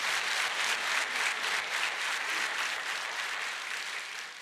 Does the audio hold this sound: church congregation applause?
yes